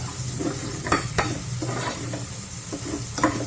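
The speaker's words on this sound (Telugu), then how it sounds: "కొంచెం గట్టితోటి లాగుతూ తిప్పుకోండి" Ginger garlic paste stirred and fried in a pressure cooker for chicken biryani, with a continuous sizzle and repeated scraping strokes of a spatula against the bottom, and no voices.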